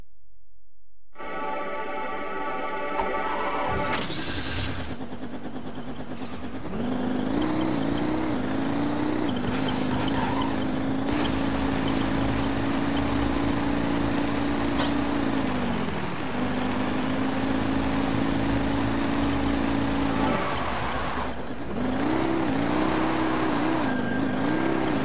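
Engine roar from a vehicle race in the video game Jak 3, loud and sustained, with revving that rises and falls, shifting engine pitch and passing swells, and an electronic musical intro at the start.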